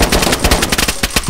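Rapid automatic gunfire in the DayZ video game, a loud, dense burst of shots fired in quick rhythmic succession, close and alone.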